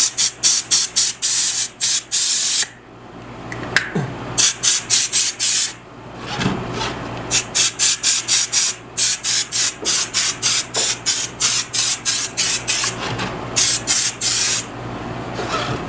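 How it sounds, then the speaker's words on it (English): Compressed air blasts dust off a sanded 3D-printed Thanos Infinity Gauntlet in many short, loud, hissing bursts fired in quick clusters, with brief pauses between groups. "I'm going to blow some of this compressed air to get rid of the dust"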